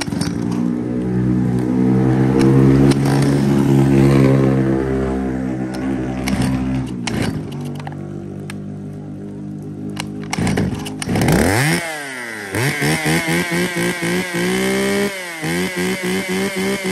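A used Japanese ECHO chainsaw engine, model 353, runs loudly close by, idling steadily at first and then revving up and down in repeated bursts. No one speaks.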